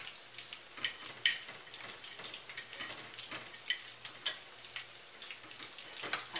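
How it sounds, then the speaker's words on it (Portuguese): Bacon frying in a pan for a home-cooked dish, a soft steady sizzle under faint scattered clicks and a couple of brief utensil knocks, heard close and quiet with no talking. "Eu vou fritar um pouquinho de bacon, botar ali junto."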